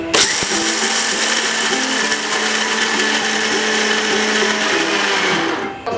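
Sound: mixer grinder jar grinding peanuts into peanut butter

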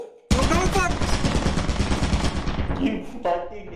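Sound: gunfire in a video game shooter

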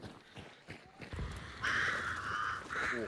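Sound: crows cawing in the video game Hunt: Showdown 1896

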